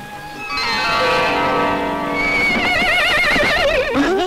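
A horse neighs loudly and close in a 1978 Indian devotional film scene, a long whinny with shaking, wavering upper tones that rises and then breaks into a rough, trembling snort near the end, with no speech over it.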